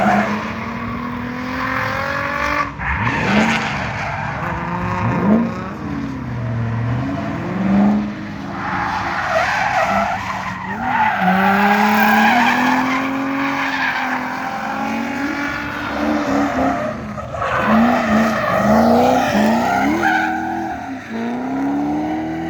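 Race cars lap a track during street league practice, engines revving and shifting as they pass at varying distances, with repeated tire squeals and skids rising over the roar throughout.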